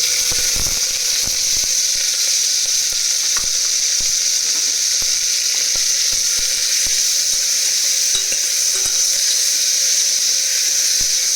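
A garlic, ginger and onion paste sizzles loudly and steadily in a hot pan for a rajma curry, a dense, unbroken hiss with occasional faint clicks.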